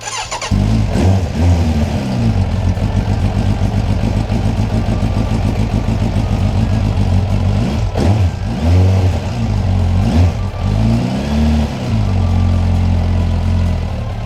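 A stone-cold Suzuki Bandit 1200 motorcycle engine with carburettors, started without choke, cranks briefly, catches and settles into a steady, lumpy close idle with a few blips of throttle.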